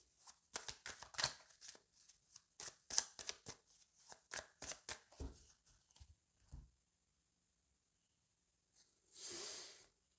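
Tarot deck being cut and shuffled by hand, a quick run of crisp riffling card flicks for several seconds, then a softer slide and brief rustle after a pause.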